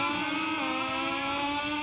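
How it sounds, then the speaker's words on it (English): Engines of MotoGP 21 race motorcycles revving together on the grid at the start of a six-lap video game race at Jerez, a steady loud droning whine held throughout with no voices. "So we are revving up at the back then."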